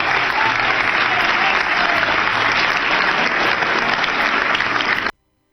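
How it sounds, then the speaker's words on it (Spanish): Sustained, dense applause fills a large hall after approval of the 1994 Argentine constitutional reform by the National Constituent Convention, loud and steady throughout before cutting off abruptly near the end. "Dejaba un poco más de los aplausos"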